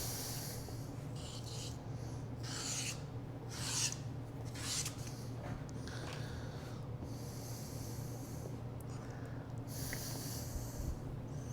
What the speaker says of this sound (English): Again, I'll bevel that scored edge.